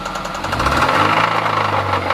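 Honda car engine revving up in a short, loud, close burst with rough, knocking texture and rising pitch, no talk over it.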